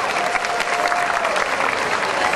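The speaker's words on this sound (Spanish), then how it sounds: "Un aplauso bien fuerte para ustedes," A university audience at the UDES applauds students, a steady, dense burst of clapping from a large crowd that lasts the whole moment.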